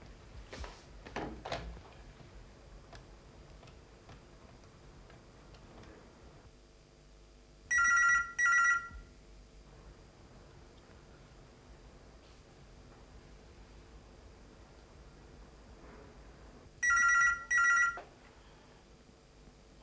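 A telephone rings in a hospital, two short bursts of electronic trilling about nine seconds apart, loud against a quiet room with faint knocks and shuffling in between.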